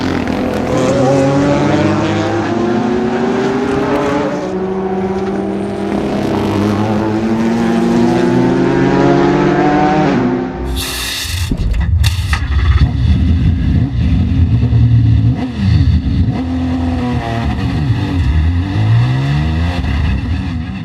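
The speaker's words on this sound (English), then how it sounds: "When you come off the last chicane, you accelerate up through a tunnel of people" A Ford GT race car screams up through the gears at Le Mans, coming off the last chicane into a straight lined with spectators, loud and sustained with rising engine pitch and a sharp gearchange midway.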